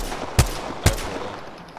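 Two sharp gunshots from a shooting video game, about half a second apart and fairly loud, with a faint background ambience and no talk.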